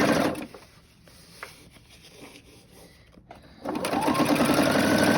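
A sewing machine stitching with matching thread in the bobbin and top thread: a brief run of rapid mechanical whirring, a quieter pause, then a longer loud, steady stitching burst up close.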